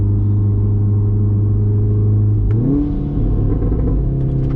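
A Volkswagen Golf R engine with a loud dump valve pulls hard in second gear, a loud continuous rising drone that dips briefly at a gear change before climbing again, heard from inside the car.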